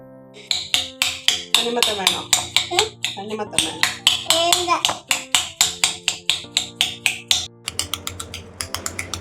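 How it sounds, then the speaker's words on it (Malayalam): A knife chops watermelon into small pieces on a cutting board in a home kitchen, producing a fast, even series of sharp close taps while someone talks throughout. "തണ്ണിമത്തനെല്ലാം കട്ട് ചെയ്ത് പീസാക്കണം ചെറിയ നിറഞ്ഞ് ചെറിയ പീസാക്കി വെക്കണം"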